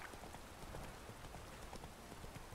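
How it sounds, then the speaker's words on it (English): Soft, steady rain patters continuously in the video game The Witcher 3: Wild Hunt, a faint even hiss with scattered drop taps and no voices. "Is it because it's raining or something?"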